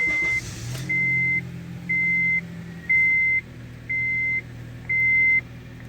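A Honda CR-V engine idles steadily after being started, with a low hum beneath six evenly spaced electronic beeps from the car.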